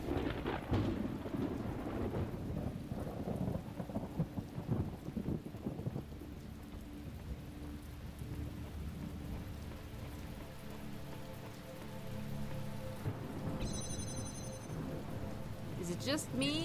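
A thunderstorm in The Talos Principle: steady heavy rain on surfaces with deep rolling thunder throughout, loud and continuous, with a faint tonal chime near the end.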